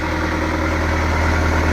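A steady engine idle runs continuously during work on a boat hull with dry-rotted wood over metal, low and even throughout with a constant rumbling drone and no talk.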